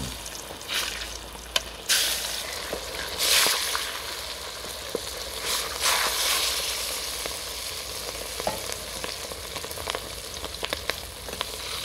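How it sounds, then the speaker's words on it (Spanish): Pork rinds (chicharrón) fry in hot oil with a broad, steady sizzling hiss, broken by scattered sharp pops and crackles, heard close and moderately quiet. "ya está haciendo el chicharrón ya"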